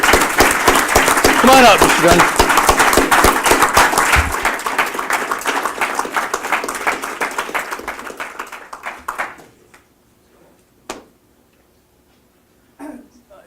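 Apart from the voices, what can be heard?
audience applause for award recipient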